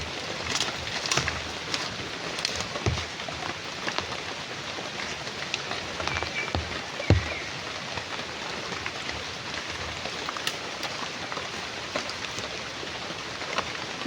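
Rain falling outdoors, a soft steady patter with scattered louder drops and light wind noise, fairly faint and continuous with no speech.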